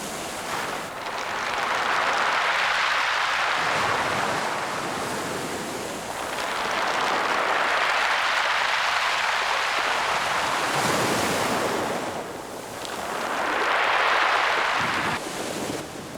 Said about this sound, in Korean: 달걀만한 몽돌들이 구르는 오른쪽 해변은 파도가 쓸고 나면 차르르 자그락자그락 소프라노 화음을 낸다